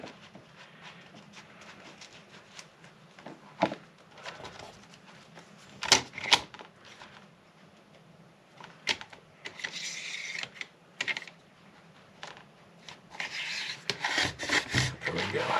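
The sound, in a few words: paper cutter cutting paper pages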